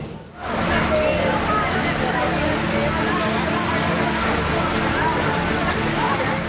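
Heavy rain pours down in Padang, West Sumatra, during flooding and fallen trees. A dense, steady roar of rainfall continues without a break, loud and close throughout.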